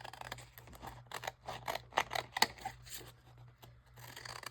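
Scissors cutting material for a round-robin craft project, a run of quick, faint snips and rustles at close range with uneven rhythm and no talking.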